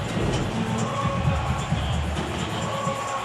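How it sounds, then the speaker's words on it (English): Football stadium crowd at a Jaguars–Panthers NFL game in Carolina, a dense sustained roar of many voices cheering from the stands, steady and loud with no pauses. "this crowd was fired up"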